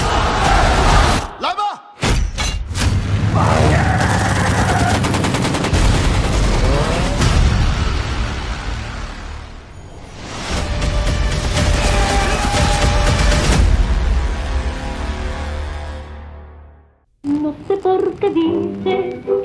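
A gunfire volley follows a shouted fire command in a dramatic film scene, with sharp shots and booms layered over dense sound for many seconds before cutting to silence and a short final burst.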